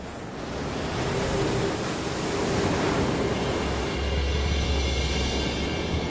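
Ocean surf and strong wind at the stormy southern tip of South America, a steady loud roar of breaking waves and gusts filling the whole stretch, with low rumble rising toward the end.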